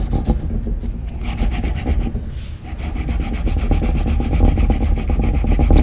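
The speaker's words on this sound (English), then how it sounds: "I start sanding, I start going forwards, and then I go at an angle, and then I go back and forth" A flat-head screwdriver shaft is block sanded by hand, giving a loud close rasping scrape in rapid back-and-forth strokes that pause briefly and then pick up a quicker steady rhythm.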